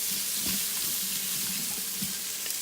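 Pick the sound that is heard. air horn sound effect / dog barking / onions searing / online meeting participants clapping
onions searing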